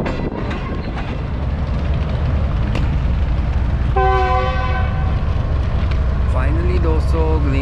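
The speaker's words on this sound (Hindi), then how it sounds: "ग्रीन लाइन एक्सप्रेस रवाना होना शुरू हो गई है" The Green Line Express, a Pakistani economy-class passenger train, pulls away from the station: a steady low rumble of rail and engine, with a loud horn blast in the middle and a rising whine near the end.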